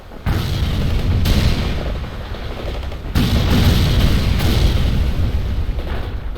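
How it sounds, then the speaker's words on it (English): Artillery barrages in World in Conflict, made of dense, loud booming blasts with rumbling impacts that surge in two heavy waves amid continuous battlefield din. "Artillery needed, and move it!"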